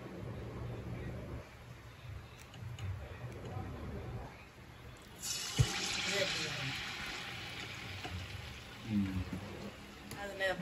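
Balls of dough dipped in a salted maida batter drop into hot oil and fry with a steady sizzle that swells and brightens midway, with small pops and clatter from the pan.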